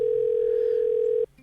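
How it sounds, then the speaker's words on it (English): An outgoing phone call carries a single loud, steady tone that holds evenly for more than a second and then stops sharply, leaving a quieter faint hum behind. "This is a long dial tone too."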